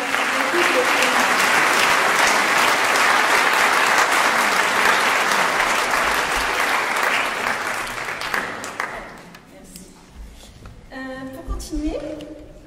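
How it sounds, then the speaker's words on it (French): Applause from a conference audience after a talk, dense and sustained for about eight seconds before tapering off. Faint voices begin speaking as the clapping dies away. "je crois qu'on peut l'applaudir"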